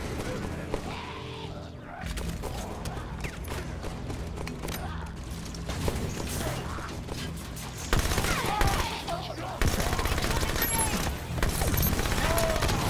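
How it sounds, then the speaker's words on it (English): Plasma pistol shots in the Halo 5 campaign, part of dense sci-fi combat with repeated weapon fire, crashes and mechanical clatter under a constant game soundtrack, growing louder in later bursts. "the plasma pistol sounds so weird"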